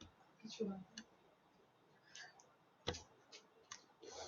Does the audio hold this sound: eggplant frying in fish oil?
no